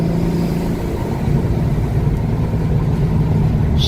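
Turbocharged car engine pulling hard under boost, a loud, dense low-pitched drone from inside the car with a steady rumble and no talking.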